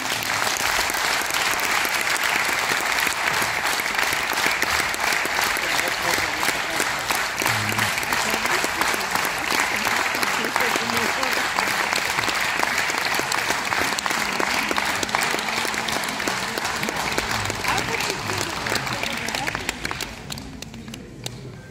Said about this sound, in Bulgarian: Аплодисменти за танцов състав Ян, град Пловдив